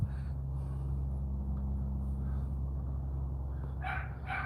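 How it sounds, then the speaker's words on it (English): A puppy gives a short burst of sharp barks near the end, heard over a steady low indoor hum after a quiet stretch. "My puppy's he barks about everything."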